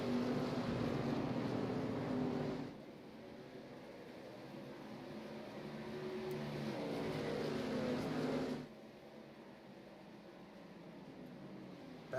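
Race truck engines roar steadily at Watkins Glen during an outlaw race lap, a loud, sustained mechanical drone that drops noticeably in level twice as the trucks pass and pull away, with no voices.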